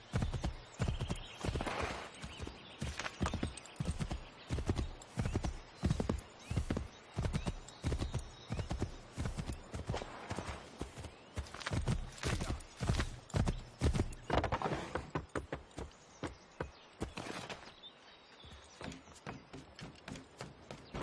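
Hooves clip-clop in a fast, continuous galloping rhythm as a horse runs in Assassin's Creed III, with occasional whinnies, steady and close for most of the stretch before easing near the end.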